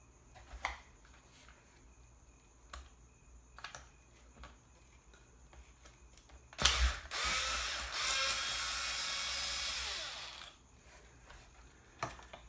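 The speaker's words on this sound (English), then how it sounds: "so I'm gonna remove these two screws." A power driver spins out screws on a Traxxas Slash 2WD LCG RC truck: one close, steady whirring run of about four seconds, preceded and followed by faint clicks and handling taps.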